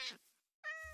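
Two cat meows from the Minecraft video game, played on Nintendo Switch: a short, bright mew, then a pause, then a longer, clear tonal meow, close and fairly quiet.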